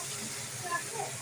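Water is poured into a hot pan of potatoes with curry leaves, producing a steady close hiss of steam that holds for the whole short moment.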